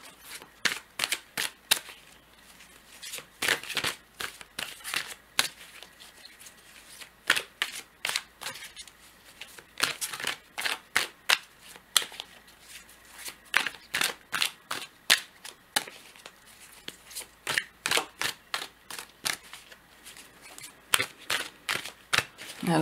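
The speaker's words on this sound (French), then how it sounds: "On va tirer une ou deux cartes." Tarot cards are shuffled and drawn, giving rapid sharp riffling snaps in irregular bursts across the whole stretch, close and crisp against a quiet room.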